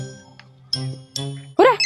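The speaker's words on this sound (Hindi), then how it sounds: "अरे मृदुल का फोन।" A short electronic phone ringtone plays a few bright tonal notes in a quick melodic pattern, close and clear, ending with a brief voice.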